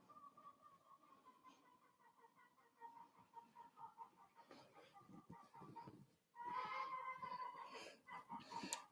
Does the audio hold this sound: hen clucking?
yes